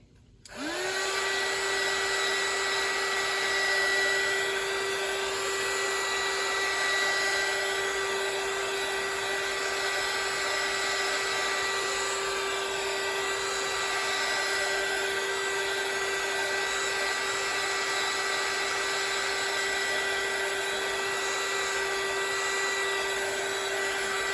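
A hair dryer blows steadily and loudly close by, drying paint on a laser-engraved coaster, with a constant whine that holds unchanged from start to finish and no voices.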